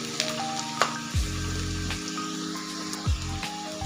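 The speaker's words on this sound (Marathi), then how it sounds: "आणखीन फक्त आपण 1 मिनिट छान असा तेलामध्ये तळून घेणार आहोत" Onion fries in hot oil for a chana masala, a steady close sizzle with occasional stirring clatter and spatters running throughout.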